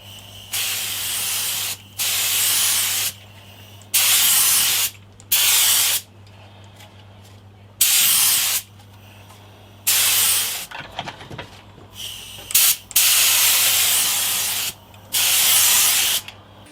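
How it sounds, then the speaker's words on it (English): Lacquer sprays in repeated short bursts of hiss, each about a second long with brief pauses between, onto an olive and walnut guitar body and neck, over a low steady hum in a workshop. "Okay, so I've sprayed the neck and I've sprayed the body."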